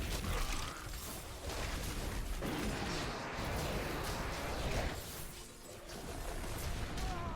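Loud, dense rumbling blasts and crashing bursts fill the scene as molten explosions erupt in Diablo III during a Torment 16 Greater Rift run, continuous and heavy throughout with no talking.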